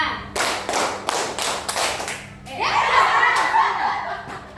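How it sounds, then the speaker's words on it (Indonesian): A class claps together in a counted routine: a run of sharp, evenly spaced group claps, then a softer, denser patter of scattered claps and faint chatter and laughter at the end. "Tepuk 1, tepuk 2, tepuk 3, tepuk 4, tepuk 5."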